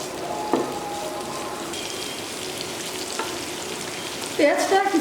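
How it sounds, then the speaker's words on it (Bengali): Chopped onions fry in a pan with a steady, close sizzle, stirred now and then, the crackle swelling louder near the end as they are moved around. "পেঁয়াজটাকে আমি কিছুক্ষণ ভেজে নিচ্ছি।"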